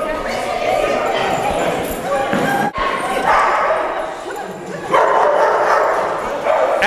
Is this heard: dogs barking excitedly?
yes